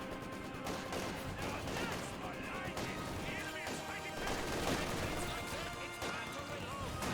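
MG42 machine gun fire in a Company of Heroes 2 match, dense bursts of gunshots and impacts layered in busy battle noise, with a voice talking over it.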